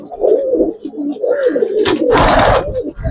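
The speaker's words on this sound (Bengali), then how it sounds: "পুরান জাতের, মোটা নাকের, মোটা ঠোঁটের কবুতর ভাই" Giribaz pigeons of an old breed with thick ceres and beaks coo in a loft, soft repeated low coos close by, broken by a brief rustle and a burst of wing flapping near the end.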